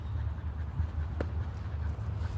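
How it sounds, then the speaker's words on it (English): A dog pants in soft, repeated breaths with a faint whimper, close by over a low steady rumble, with one brief sharp click partway through. "She's a good dog."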